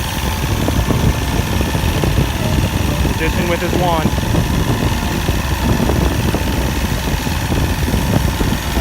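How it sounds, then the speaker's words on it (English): A small two-stroke boat outboard motor idles steadily and continuously after a tune-up, its low rumble running the whole time, with someone speaking briefly over it partway through. "Need to get her idling well now."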